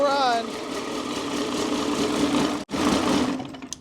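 A 1960 Pontiac wagon V8 engine running at a very low idle after sitting 34 years, a steady close rumble with a rough, uneven beat and a brief cut-out, and a voice speaking over it.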